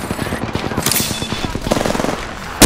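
Rapid automatic gunfire from the Apex Legends video game rattles in a steady fast stream, loud and close, ending in a sharper burst.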